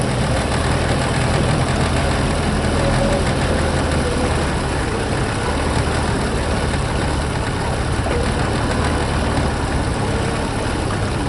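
A small engine, apparently on a bow-season outing, runs steadily and rough on stale gasoline with a carburetor problem, a continuous low, loud chugging drone that fills the whole stretch with no talk over it.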